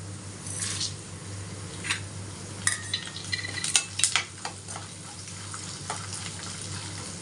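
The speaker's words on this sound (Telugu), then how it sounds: "పోపు దినుసులు అండి జీలకర్ర ఆవాలు మినపప్పు శనగపప్పు ఎండు మిరపకాయలు" Tempering spices frying in hot oil: cumin, mustard seeds, urad dal, chana dal and dried red chilies, crackling and popping in scattered bursts over a steady low hum, strongest in the middle.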